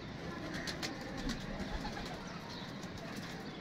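Domestic pigeons on a rooftop loft in a hobby pigeon-keeping setting, cooing softly and steadily amid a busy background of outdoor hiss and distant noise, no one speaking.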